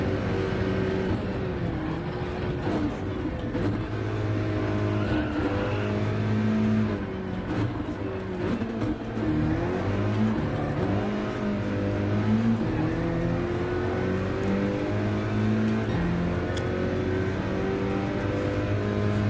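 Race car engine at the Nurburgring in Gran Turismo 7, droning loudly and continuously with shifting revs through the gears, sustained throughout without pause.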